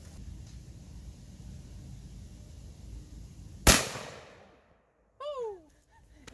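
A single loud, sharp gunshot firing buckshot at an outdoor scrapyard, with a ringing decay that trails off into quiet before brief shouting voices follow.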